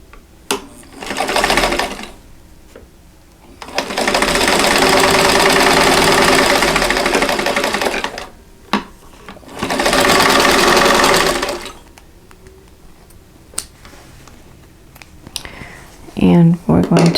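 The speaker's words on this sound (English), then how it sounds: "I'm going to sew on that drawn line" A sewing machine stitches along a drawn line on a quilt block in three close bursts, a short one then two longer steady whirring runs of several seconds, with quiet handling sounds between.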